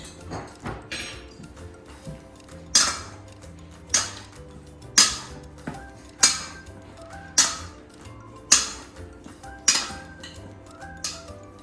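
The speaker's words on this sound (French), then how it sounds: "On va remuer." A utensil stirring and scraping inside a cooking pan while ingredients caramelise in olive oil, heard as a series of close, ringing metallic clinks and knocks that repeat roughly every second, with no talking.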